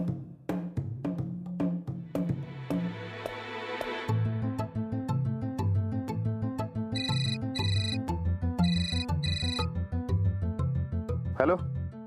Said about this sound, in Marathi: मी राणाजींना फोन करून विचारते.